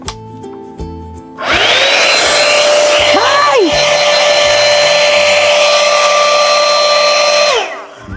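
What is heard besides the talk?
hair dryer blowing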